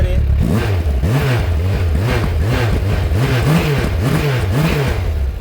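A 2002 Suzuki Bandit 1200S, an oil-cooled motorcycle with its original exhaust, runs cold with a steady, rhythmic engine throb that rises and falls in regular pulses close by, with no talk over it.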